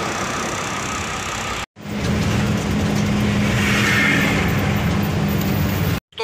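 A truck sets off toward Mundra port, its engine running with a steady low rumble and tonal hum, broken by two short dropouts near the start and end, with no talk.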